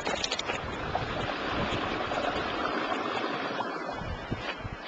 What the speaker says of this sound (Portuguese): dá pra ouvir o barulho da água